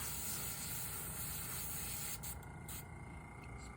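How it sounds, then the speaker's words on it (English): An airbrush sprays paint onto nails with a continuous close hiss that holds steady, then softens and flickers slightly toward the end; no voices. "Spray out the overspray."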